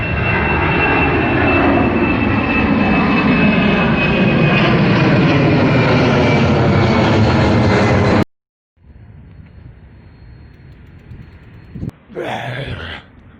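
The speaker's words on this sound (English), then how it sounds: "we got a plane sighting" A fixed-wing airplane roars loudly overhead near Jewel Changi Airport in Singapore, a steady, dense engine drone that cuts off abruptly, leaving quiet outdoor ambience.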